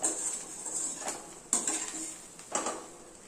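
Chana dal is stirred with coconut in a pan, giving a few distinct metallic scrapes and clinks about a second apart. The strokes are close and clear, with quiet pauses between them and no voices.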